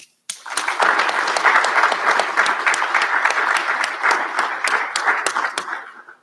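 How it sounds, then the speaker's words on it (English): An audience at a college graduation recognition ceremony breaks into sustained applause, starting abruptly and holding a dense, loud clapping for about six seconds before fading at the end. "So please join me in applauding them."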